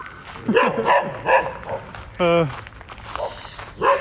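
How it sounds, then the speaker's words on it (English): A dog barks a few times, one sharp bark standing out, mixed with someone talking nearby and some rustling. "This dog blabs louder than I do."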